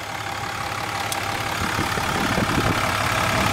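A modified 2007 Dodge Ram 3500 SLT with a Cummins 6.7 diesel idles steadily, a continuous low rumble with light rattly clatter, heard alone and fairly close.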